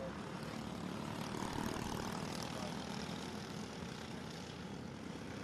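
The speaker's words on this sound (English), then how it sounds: "This is our only 4-cycle class here at Rock Sonoma. It's a Briggs & Stratton engine, 206cc." Several Briggs & Stratton 206cc four-cycle racing kart engines drone together at a kart track during a main event, a steady dense buzzing roar that swells slightly midway and holds throughout.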